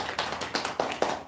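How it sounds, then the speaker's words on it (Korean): A church youth-group congregation claps for returning mission-camp teachers, with a few distinct, fairly loud claps at an uneven pace over a short stretch. "우리 수고하신 선생님들께 박수."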